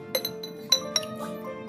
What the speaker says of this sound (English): I need to place my glass jar over them.